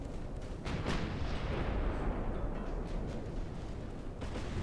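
Torpedo explosions in the naval game Ultimate Admiral Dreadnoughts: a deep, rumbling blast that rolls on over a dense, noisy battle background, with no speech.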